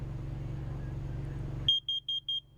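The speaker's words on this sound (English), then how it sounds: "You press it, you hear the little beep." A battery-powered carbon monoxide detector under test gives a series of sharp, high-pitched electronic beeps, evenly spaced and loud, cutting in after a low steady hum, with no talking.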